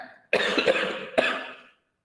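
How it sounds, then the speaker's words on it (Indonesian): A single harsh cough, made up of two quick bursts close together, loud and close by, followed by silence. "Maaf, batuk."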